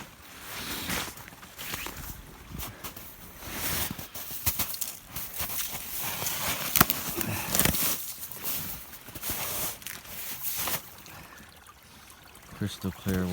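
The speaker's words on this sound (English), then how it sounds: "Here's water running." Clear water runs in a stream past the remains of an old dam where trout move upstream, a steady broadband trickle and rush heard up close alongside footsteps and rustling, with no talking.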